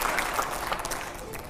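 Studio audience applause at a televised Hindi political debate show, a dense, steady wash of clapping held at an even level through the short stretch with no break.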